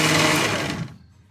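A blender whirring through a sauce: a loud, close motor hum that cuts off abruptly just under a second in, then fades into quiet room tone.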